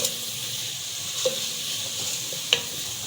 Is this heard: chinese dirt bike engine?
no